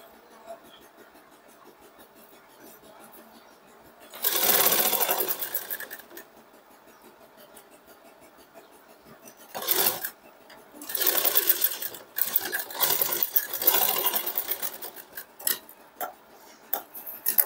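Sewing machine with a double foot stitching designer lace onto a dupatta, running in several bursts of rapid mechanical stitching separated by quiet pauses, close and fairly loud.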